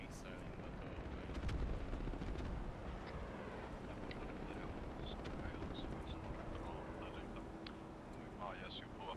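A missile explosion in ARMA 3 sends out a deep rumbling blast, with the loudest burst early on, then a long, heavy roar that slowly fades under faint voices.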